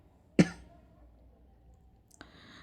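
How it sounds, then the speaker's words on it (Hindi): A single sharp human cough near the start, loud against a quiet room, followed by a faint click. "थोड़ा disturbance है खांसी की वजह से।"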